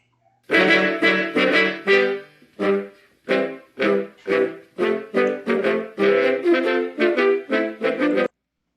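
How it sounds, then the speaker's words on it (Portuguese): Trombone plays a bouncy melody alone, short detached notes in a lively rhythm, close and fairly loud, ending after about eight seconds. "Som do trombone, tocando a melodia"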